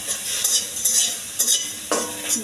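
Chicken meat sizzles in a new wok on a stove as a utensil stirs it in short repeated scrapes, with steady frying hiss underneath.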